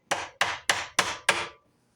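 Five sharp, evenly spaced hammer blows on a 5/32 rivet set drive 1/8 brazier-head aluminum rivets, each strike ringing briefly before the last one fades into silence.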